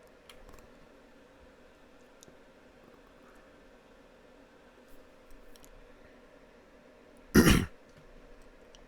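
One sharp cough with throat clearing bursts out near the end, loud against a faint, steady background hiss.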